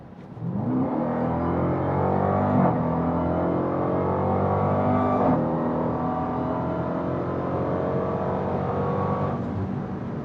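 A 710-horsepower 2026 Dodge Durango SRT Hellcat accelerates hard in track mode, its supercharged engine roaring loud and close with a rising pitch that breaks at each quick upshift and climbs again.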